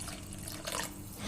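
Water is poured into a pot of mint soup with moong dal, a short continuous splashing pour at moderate volume, brightening briefly midway, with no speech.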